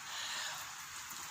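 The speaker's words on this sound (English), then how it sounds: "It's raining." Steady rain falling outdoors in Mowbray, a soft, even hiss of drops with no talking over it.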